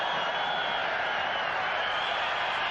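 A steady, unbroken roar from a stadium crowd of some 55,000 fills the air at a 1994 Canada versus Brazil football match, constant and fairly loud throughout.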